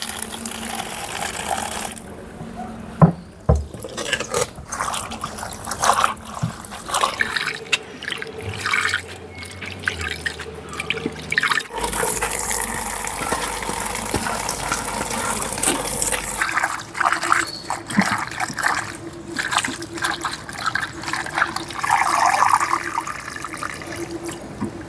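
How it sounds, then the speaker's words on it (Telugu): Gongura leaves are washed by hand in water, with continuous splashing and sloshing and a running tap that surges and drips at moments. Faint background music sits underneath, and nobody speaks. "ముందుగా అయితే ఈ గోంగూరని శుభ్రంగా కడుక్కుందాం"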